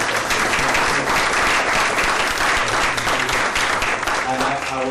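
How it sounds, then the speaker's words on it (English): A meeting audience at an annual membership gathering claps, giving sustained, dense applause throughout that is loud and steady, with some voices mixed in. "So please give him a round of applause."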